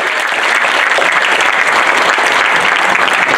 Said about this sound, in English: Another round of applause, please, for Arielle.